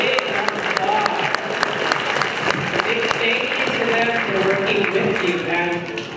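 Audience round of applause honoring a taiko drumming group, many hands clapping in a dense, continuous patter with scattered louder claps, while voices talk and call out underneath.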